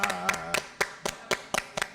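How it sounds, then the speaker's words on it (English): A small group claps hands together on a morning show, several sharp, fairly evenly spaced claps in a loose rhythm, near and distinct, with a brief voice tone at the start. "Let's get these claps"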